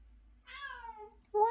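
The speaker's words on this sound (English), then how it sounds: "I'm talking about my cat. I have a cat." A pet cat gives one clear, close meow that slides downward in pitch, followed by the start of a second cry, in a quiet indoor room.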